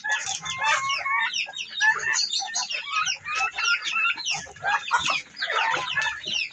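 A flock of chickens clucks busily and continuously, close by, while pecking at leftover cold rice scattered as a farmyard snack, with several overlapping calls and no talking.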